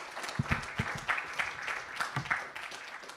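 Audience applause for a speaker at a cryptography conference, a short burst of many hands clapping at moderate volume, with a few louder individual claps over the steady patter of the crowd.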